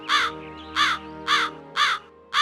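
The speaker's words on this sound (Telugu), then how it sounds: "కాలు కాకి ఇదంతా వేరే చెట్టు మీద కూర్చుని చూసి నవ్వుతూ ఉంటుంది" A crow in an animated Telugu children's story caws five times in a loud, close, evenly spaced series of harsh calls.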